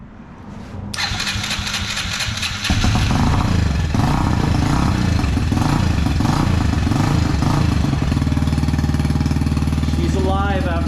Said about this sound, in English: We put fresh gas in it and hopefully she fires up now